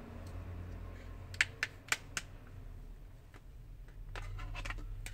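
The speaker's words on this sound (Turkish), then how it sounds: "Aradıktan sonra tırnak yardımıyla da sökebiliyorsunuz şu şekilde." Back cover of a Samsung Galaxy A01 phone pried loose by fingernail, giving a quick run of sharp plastic clicks and snaps close by, then quieter faint scraping over a low background hum.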